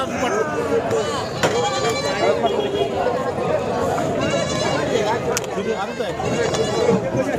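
Several goats bleat repeatedly over a busy outdoor crowd at a goat and sheep market in Sangola, India, with people talking nearby throughout.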